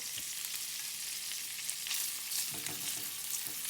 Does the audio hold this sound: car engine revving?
no